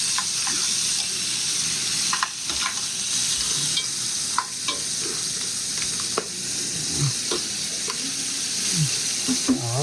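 Clams and garlic sizzle in a hot pan for spaghetti with white clam sauce, a constant frying hiss broken by occasional clicks and knocks of shells shifting, close and steady throughout.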